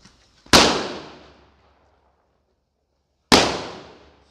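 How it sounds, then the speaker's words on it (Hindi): Two firecrackers are set off during testing, each a single sharp, loud bang close by, followed by a fading crackling tail, with about three seconds of quiet between them. "ये दोनों को हम टेस्ट करेंगे अभी और फिर देखें कैसे चलता है ये वाला पटाखा"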